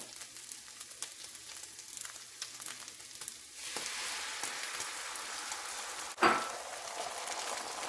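Pork and eggs frying in a Ninja Neverstick skillet, a steady sizzle that swells louder as eggs hit the pan, with a brief utensil clatter near the end.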